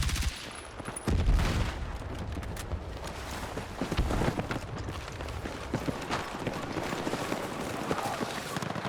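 Battlefield 6 gunfire in King of the Hill mode, with an M4 in play: scattered shots and short bursts at middling distance over a busy, rumbling battlefield, with faint voice chatter in places.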